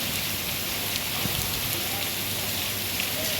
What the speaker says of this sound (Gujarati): પાણીના એકદમ ફૂલ વરસાદ આવે